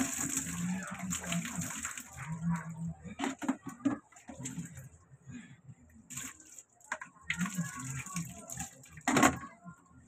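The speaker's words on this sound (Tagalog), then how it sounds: "Buhusan ng tubig pagbabanlawan." Water is poured over something to rinse it, splashing and gushing in irregular bursts up close, with short pauses between pours.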